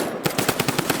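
Pistol fire in a shooting video game: a rapid string of about nine evenly spaced gunshots, loud and close over a continuous game background, with no talking.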